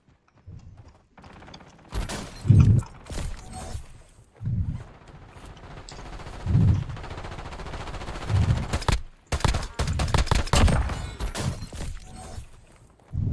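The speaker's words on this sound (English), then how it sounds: "We're still being shot at." Rapid gunfire bursts and scattered shots ring out in Black Ops 6 Zombies on the Haven's Hollow map, loud and close, with brief gaps between volleys and game effects filling the background.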